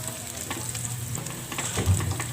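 Onion and ginger sizzle and fry steadily in a pan while being mixed together, a continuous close crackle with a slightly louder stir near the end.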